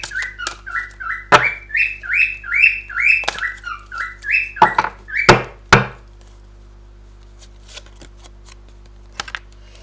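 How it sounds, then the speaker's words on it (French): A pet bird calls loudly and repeatedly in a fast run of squawking, whistled chirps close by, then a few sharp bursts before the room falls mostly quiet with faint ticks. "J'ai mon oiseau qui parle plus fort que moi,"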